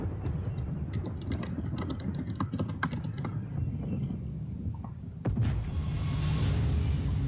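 Computer keyboard typing, a run of light, quick clicks over a steady low rumble, fading before a louder broadband burst near the end.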